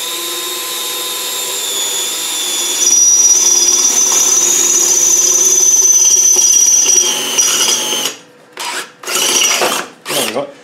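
A power drill whines steadily as it bores a pilot hole for a clutch bush, the pitch holding for several seconds before it cuts out into short stop-start bursts, close and loud.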